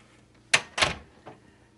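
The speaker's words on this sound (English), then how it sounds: "I'm supposed to shut the other door." A door is pulled shut in a hospital biological PPE training room: two sharp, close thuds half a second apart, followed by a softer rattle, then quiet.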